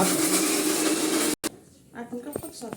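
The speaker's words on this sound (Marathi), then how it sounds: "तर ह्या पद्धतीने अशी मस्त डाळ दळून दळून घ्यायची" A mixer grinder grinds moong dal with a loud, steady whirring buzz for just over a second, then cuts off abruptly, and a voice begins speaking afterwards.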